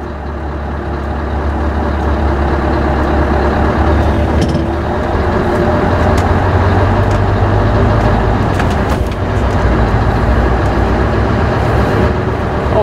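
A 2006 Scania T500 V8 truck pulls off, its engine a steady loud low drone from inside the cab throughout, with faint clicks and rattles on top.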